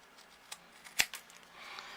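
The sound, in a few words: trimming craft material for a desk caddy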